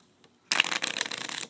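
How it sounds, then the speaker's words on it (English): A deck of playing cards being shuffled by hand, a close, dense riffling flutter that starts abruptly after a brief quiet moment and runs steadily for about a second, loud and alone with no talking. "Just give the cards a few shuffles"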